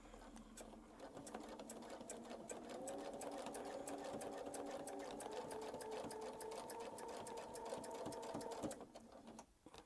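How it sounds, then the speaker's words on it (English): A sewing machine stitches steadily through a quilt guided around a template, a continuous close whirring hum with fine rapid needle ticks that runs for most of the stretch before cutting off near the end. "And we'll sew back to the middle."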